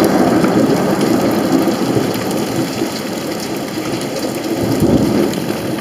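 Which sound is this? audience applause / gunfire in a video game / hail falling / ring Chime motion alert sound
hail falling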